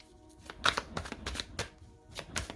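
Tarot cards shuffled by hand up close, a quick run of soft slapping and riffling strokes in uneven rhythm, quiet and without speech.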